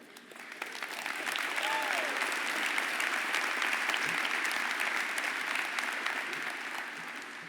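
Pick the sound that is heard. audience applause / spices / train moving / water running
audience applause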